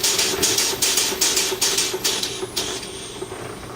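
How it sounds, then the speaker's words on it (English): A Bischoff single-cylinder steam engine running while driving a Markland dyno to produce electricity, giving a regular, rapid chuffing beat of sharp exhaust puffs over a steady mechanical hum, close and clear, with no voices. "the Bischoff single-cylinder steam engine hooked up to a Markland dyno of a similar period of time, producing electricity"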